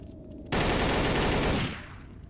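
Burst of rapid video game gunfire lasting about a second, loud and close, then fading into a short echoing tail.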